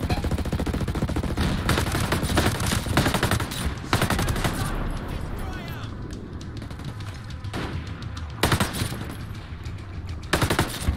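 Rapid automatic gunfire and scattered single shots crack in dense, overlapping bursts during a firefight on a hill in Ghost Recon Breakpoint, loud and continuous for the whole stretch, with faint voices underneath.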